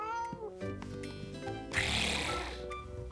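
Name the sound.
child imitating cat meowing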